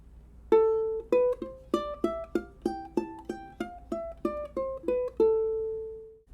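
Single plucked ukulele notes in a rhythm of one eighth note followed by sixteenth notes, around fourteen clean picked tones ending on a sustained note, close and quiet with no speech.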